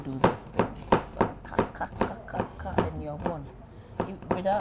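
A knife chops onion into very thin shreds on a board, a brisk, regular run of close thuds with light scraping, while voices talk over it.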